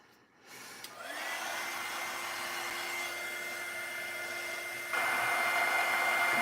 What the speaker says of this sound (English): So again, with the fabulous heat tool, it's already got glue on,